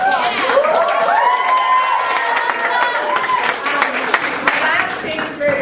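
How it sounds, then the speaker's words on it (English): A school assembly crowd, with parents and students, applauds a coach's award, sustained clapping with scattered cheers and shouts, loud and close throughout. "Let's do a round of applause."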